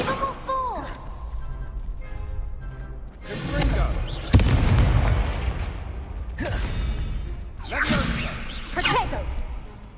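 Incendio fire spell bursts from a wand in Hogwarts Legacy, a series of sharp whipping whooshes and crackling flares, the loudest burst around the middle, with a spoken voice underneath at times.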